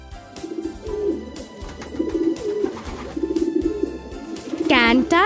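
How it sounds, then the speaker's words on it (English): Pigeon cooing in soft, repeated low rolling phrases across the clip, set against a steady musical background, with a brief higher vocal sweep near the end. "Pigeon"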